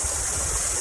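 Kumbwade waterfall near Amboli flowing at a low level, a steady broadband rush of falling water heard close and continuous, with no voices.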